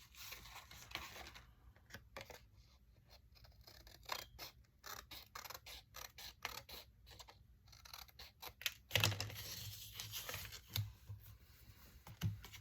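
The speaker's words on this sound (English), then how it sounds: "I'm just gonna cut this one and have it as a template for my other paper." Scissors cut a paper template in a quiet room, giving a run of sharp, crisp snips with brief pauses. A louder burst of cutting and rustling comes near the end.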